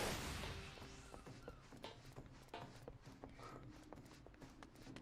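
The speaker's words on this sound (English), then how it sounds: "Its footsteps are still kind of loud" Mount footsteps in Final Fantasy XIV, steady clip-clopping hoofbeats in a quick regular rhythm, close and fairly prominent over soft game ambience.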